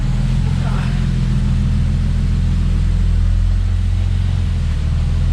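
Car engine idling steadily in first gear during a clutch check, a loud, low, constant rumble close by with a faint voice briefly at the start.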